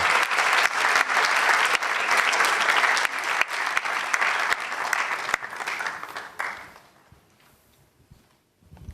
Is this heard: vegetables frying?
no